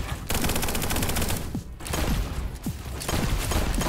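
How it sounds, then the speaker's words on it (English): Rapid, close gunfire bursts in an Echo Point Nova shooter game, with a shotgun and other weapons firing in dense, repeated volleys and brief gaps between them. "The shotgun is so good."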